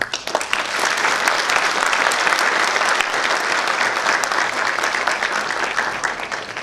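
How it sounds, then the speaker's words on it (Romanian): A hall audience at a charity event applauds steadily, a dense unbroken wash of many hands clapping close and loud for the whole stretch, with no voices over it. "Și îi aplaudăm din nou."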